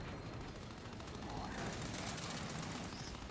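Rapid, continuous gunfire during a ranked Control match in the video game Gears 5, a dense, steady stream of shots at moderate level with no clear gaps.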